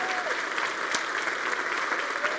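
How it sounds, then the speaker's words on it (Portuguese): A church congregation at a Brazilian service gives its pastor a dense, steady round of applause, many hands clapping together at an even level throughout, with a faint voice underneath. "E eu queria que vocês agora honrassem seu pastor com uma tremendíssima salva de palmas"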